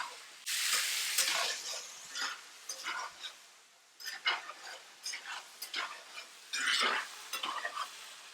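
Asian chicken stir-fry being stirred and browned in a hot pan, with bursts of loud sizzling and a spatula scraping in an uneven rhythm, close up.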